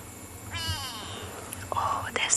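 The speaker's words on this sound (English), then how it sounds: "Oh, there's the grey go-away bird calling." A grey go-away bird calls on an afternoon safari, a brief nasal, wavering cry rising against a faint outdoor background, with a quiet voice nearby.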